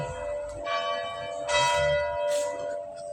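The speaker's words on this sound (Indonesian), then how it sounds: "Wih, lonceng." A church bell at the Basilica of St. Vianney in Ars, France rings with a sustained metallic hum, struck several times at a slow pace, resonating at moderate distance.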